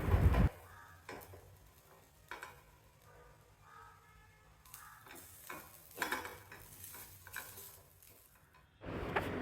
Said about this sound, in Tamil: 1/4 கப் அளவுக்கு தேங்காய் சேர்த்து வறுக்கணும்.